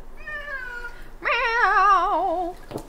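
A very large 43-pound cat meows twice during a bath, a shorter plaintive call followed by a longer, louder wavering meow, close by with no talking.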